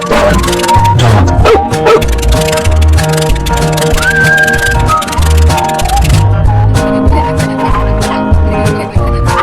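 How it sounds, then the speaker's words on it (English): A cartoon dog barks and yips over bouncy background music, a string of several quick, loud barks with whimpering yelps in between. "Dog."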